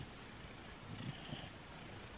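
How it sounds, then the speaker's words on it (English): A contented cat purring while lying in a bed inside a camper van, a soft, low, steady rumble that swells slightly midway and stays faint throughout. "I don't know if you can hear that purr,"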